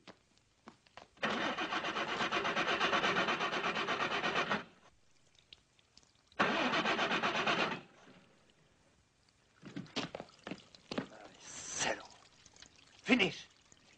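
A car engine cranks and starts in a 1958 film scene. Two long bursts of loud, rough motor noise are separated by a pause, followed by scattered quieter mechanical clatter and brief voices.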